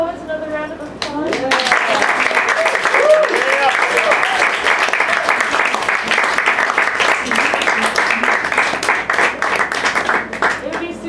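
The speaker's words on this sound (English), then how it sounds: "Just give all the poets another round of applause." A poetry reading audience claps together in loud, steady applause lasting around ten seconds, with voices heard briefly before it swells.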